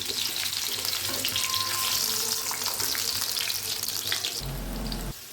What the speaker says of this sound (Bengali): এবার আস্তে আস্তে আমি আলুগুলো ছেড়ে দিচ্ছি।